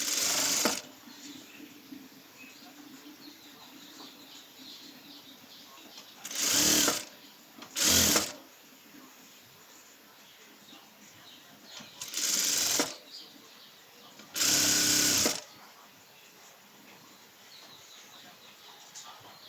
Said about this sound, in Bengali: হাতা সেলাই করে ফেলছি